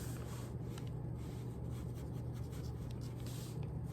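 A pencil drawing on paper, a soft continuous scratching and rubbing of graphite close by, quiet and steady without any talk.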